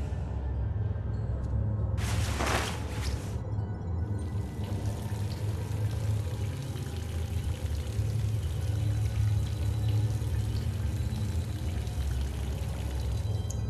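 Shower water running in the video game Underhell, a steady loud hiss of spray that continues without pause, with a brief sharper splash near the start.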